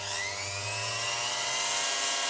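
A Guild PMF300GH.1 oscillating multitool runs unloaded straight out of the box, giving a steady, loud, high-pitched buzzing whine with no talk over it.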